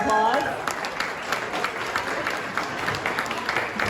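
An audience at a golf event dinner hosted by Westfields applauds. The clapping is a dense, steady wash that carries through the whole stretch, with a voice briefly audible at the start.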